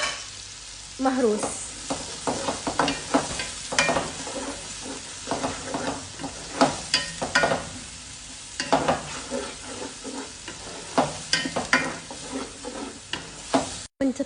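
Grated or crushed garlic fries in hot fish oil in a pan, with steady sizzling and crackling broken by repeated scrapes and taps of a stirring utensil. A brief word is spoken.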